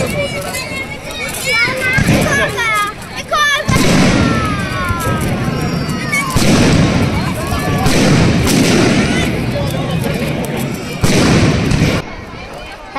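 Diwali firecrackers, including sparklers, bursting outdoors at a festive night gathering, with sharp cracks and booms scattered through the clip while children and adults talk and shout over them.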